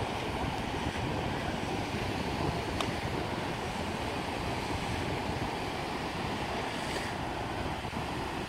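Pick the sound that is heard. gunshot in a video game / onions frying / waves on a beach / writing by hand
waves on a beach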